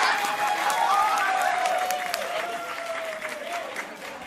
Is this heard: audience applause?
yes